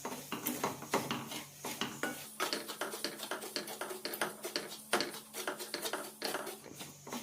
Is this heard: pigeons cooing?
no